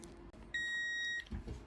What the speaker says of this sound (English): So when it beeps again, I'm going to hit the thing